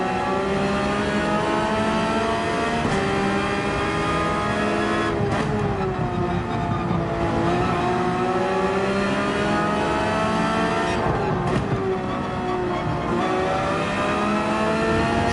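Race car engines lapping Brands Hatch in Gran Turismo 7, a steady loud roar of several cars running close together, rising and falling in pitch through gear changes with brief dips at shifts, continuous throughout with no talk.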